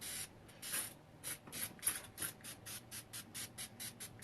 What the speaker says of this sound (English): I'm going to spray my face